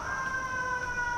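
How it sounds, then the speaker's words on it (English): An ambulance siren wails outdoors near a park, a steady pair of high tones holding at moderate volume over distant background noise. "Ambulance and stuff. So much noise out here."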